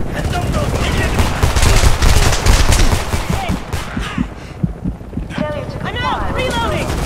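Sustained gunfire in the Homefront video game, dense bursts of shots close up in the first half, then thinning out under voices and radio-like chatter toward the end.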